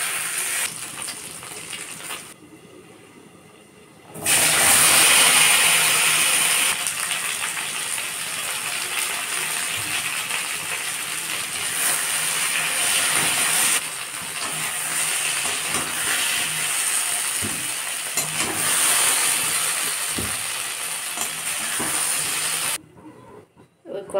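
Taro pieces frying in hot oil in a wok: a loud, steady sizzle starts after a few quieter seconds and keeps up almost without a break, cutting off near the end.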